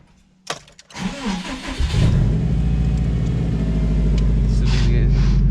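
An ageing Subaru STI with 183,000 miles and a newly installed shifter bushing heard from inside on a test drive: a door or shifter clunk, then the engine revs up into a loud, steady, close rumble with droning harmonics.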